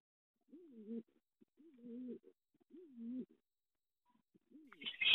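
King pigeons at a bird market give soft, low cooing calls, several rolling coos in a slow repeating rhythm, close and clear over near silence, with a brief rustle at the end.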